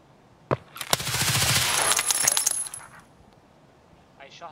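Gunfire in the video game Escape from Tarkov: a few sharp shots, then a dense rapid burst lasting about two seconds before a brief quieter tail.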